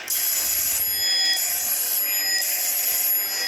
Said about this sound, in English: So we sound the salvo alarm.